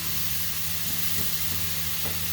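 Steamed green beans and broccoli crisp up in a good-sized wok, giving off a steady, soft, continuous sizzle and hiss with a low hum underneath and no break in the sound.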